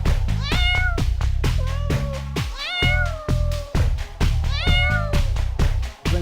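A kitty meows repeatedly and loudly up close, several rising and falling cries in quick succession over a steady low background hum, with no talking.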